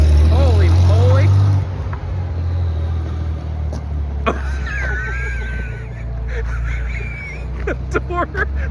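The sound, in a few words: Porsche car driving on the road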